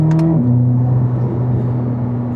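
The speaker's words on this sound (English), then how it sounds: "Oh, the turbo spool." A Corvette C8 ZR1 on a track gives a loud, steady engine drone with a rising whine as the turbo spools up, holding a sustained whir throughout.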